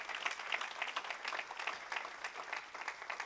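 A church congregation at Impact Centre Chrétien in Brussels claps in lively, rhythmic bursts during an anniversary service, the applause dense and continuous throughout.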